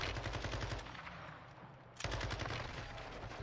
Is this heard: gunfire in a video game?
yes